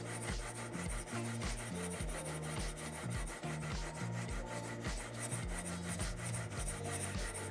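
Steady, rapid abrasive rubbing of a Sand Shark sanding machine hand sanding a knife blade, continuous and close, with a rhythmic back-and-forth scraping texture throughout.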